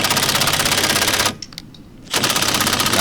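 A Makita 18V LXT brushless impact driver (XDT14T) hammering at its lowest speed setting gives a loud, fast, even rattling burst. It stops briefly for a near-silent gap, then resumes the same steady hammering.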